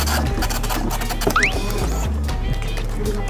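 Bank printer in a currency exchange setting printing a slip: a steady mechanical whir with rhythmic clacking pulses of the paper feed, close and continuous, with no voices.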